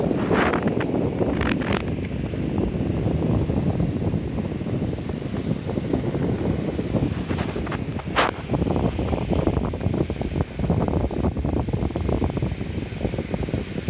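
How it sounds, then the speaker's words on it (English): Strong wind buffets the microphone in a steady roar, with a surf-like wash underneath and a few louder gusts. "Windy, isn't it?"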